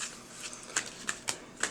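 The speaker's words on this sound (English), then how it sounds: "I'm going to be shuffling up your deck right here" A tarot card deck being shuffled, with soft papery riffles and a few sharper card snaps in an irregular rhythm, close and fairly quiet.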